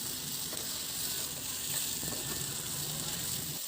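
Curry leaves sizzle with a steady, faint hiss in a hot oiled pan while being stirred for a cauliflower masala curry, with soft scraping under the continuous frying noise.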